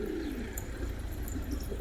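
Pigeons coo continuously nearby, soft low rolling calls overlapping in a steady murmur, with faint higher chirps and no speech.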